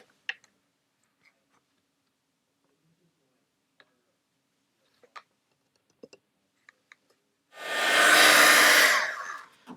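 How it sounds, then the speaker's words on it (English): A crafting heat tool melting embossing powder on a card: a few faint, scattered clicks and taps in near silence, then a loud, close, hissing blast of hot air that lasts about two seconds and cuts off. "put embossing powder on this one and heat set it first"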